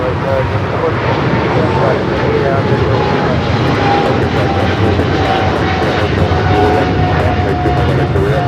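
JetBlue airliner in the new Puerto Rico livery passing at LAX, a loud continuous engine roar close by, steady throughout.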